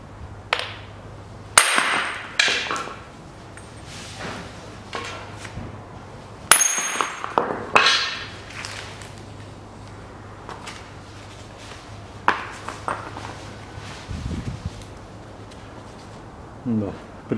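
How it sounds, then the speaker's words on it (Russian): Heavy metal hammer blows ring out irregularly, knocking out a front wheel hub on a 2010 Chery Amulet 1.6, several sharp clanging strikes spaced apart, with a low hum and quieter shuffling between hits. "Выбиваю ступицу."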